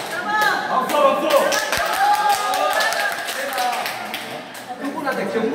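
Applause from an audience at an apartment complex public hearing, a scattered clapping rising briefly under ongoing voices and crowd murmur in a hall.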